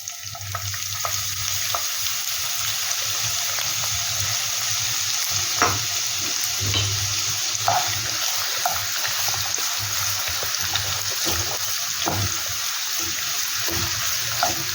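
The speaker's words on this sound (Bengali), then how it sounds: "এইবার এর মধ্যে এই যে পেঁয়াজ কুচিগুলো ছিল, এইটাকে তেলের মধ্যে দিয়ে দেবো।" Chopped onions frying in oil with cloves, cardamom and cinnamon, a loud, steady close sizzle with scattered crackles and occasional stirring scrapes, no voices over it.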